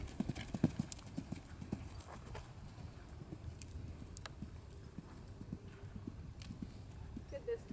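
A horse canters during a riding lesson, its hooves clip-clopping in a steady, rhythmic beat at moderate distance while an instructor talks over it.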